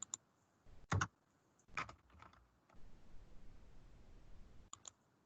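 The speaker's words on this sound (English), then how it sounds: "I click here, it makes a camera sound" A few sharp software camera-shutter clicks in Adobe Captivate 2019 in a quiet room, each with a brief snappy shutter-like burst, spaced irregularly over a faint background hiss.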